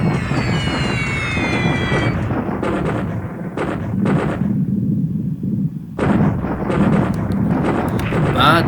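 Heavy bomb explosions pound an airfield in the War in the Pacific strategy game, a dense rumbling barrage that breaks off briefly before resuming, with a voice talking over parts of it.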